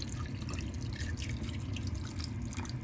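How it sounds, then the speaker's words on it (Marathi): Water poured into a pan of potato curry to thin the gravy, a dense continuous splashing and bubbling rush heard up close for a few seconds, with no voices. "आणि याच्यामध्ये पाणी घालून घेऊया"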